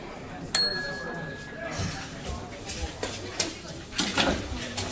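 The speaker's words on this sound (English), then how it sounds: "Alright, let us ring the bell." A single bell is struck at a restaurant counter, giving a sharp ringing ding whose tone lingers briefly, followed by indistinct background noise in an otherwise empty-seeming room.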